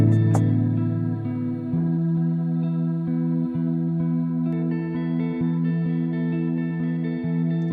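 A clean electric guitar plays a steady, simple arpeggio drenched in chorus and echo, the notes ringing and overlapping in a smooth, continuous wash.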